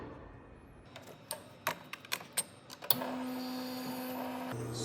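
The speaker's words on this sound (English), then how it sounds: "I need to fine up my grind and pull another shot." A home espresso machine pulls a shot with a finer grind: several sharp clicks and taps come first, then a steady pump hum with a thin stream of liquid that runs until near the end.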